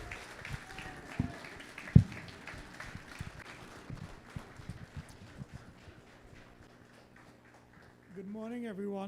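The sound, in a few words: round of applause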